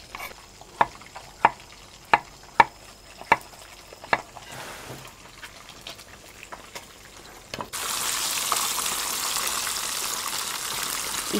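Fish halves fry in hot oil until crispy, a dense steady sizzle that swells suddenly and continues close and loud, after a series of sharp rhythmic chopping knocks.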